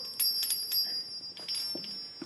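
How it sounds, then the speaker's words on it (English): Small bells hung on threads across a tower staircase tinkle as the steps are trodden on, several faint, brief jingles scattered in quick succession over a quiet background. "Anyone who sets foot on these steps sets off the bells."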